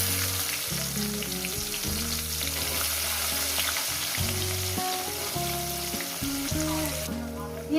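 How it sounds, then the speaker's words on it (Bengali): Chopped onions fry in hot oil in a pan with a loud, continuous sizzle. Steady background music plays over the frying, and no one speaks. "5 মিনিট ধরে ভেজে নেব, যেহেতু অনেকটা পেঁয়াজ একটু ভাজতে সময় লাগবে।"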